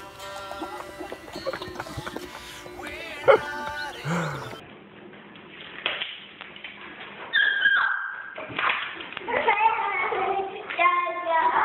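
Dogs shut indoors while their owner is out rabbit shooting whimper, whine and yelp in broken bursts, with a few barks and a voice in the background.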